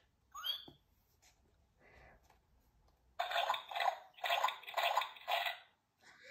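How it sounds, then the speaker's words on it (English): A sound book effect of splashing in muddy puddles: a few faint early sounds, then five loud rhythmic splashy bursts in quick succession, each swelling and fading, before the sound cuts off. "Everyone is having a wonderful, noisy time jumping and splashing."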